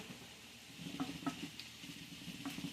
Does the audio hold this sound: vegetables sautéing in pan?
yes